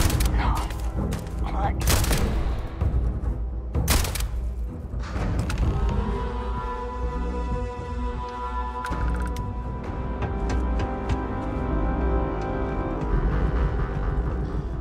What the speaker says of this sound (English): Heavy fire over here!